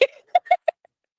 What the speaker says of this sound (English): hanging out with my chickens